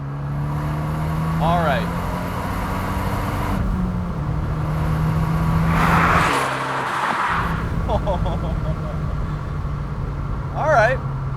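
Turbocharged Fiat 124 Abarth Spider engine pulling steadily under acceleration, a droning mid-range note with gear changes, heard from inside the car with someone talking over it.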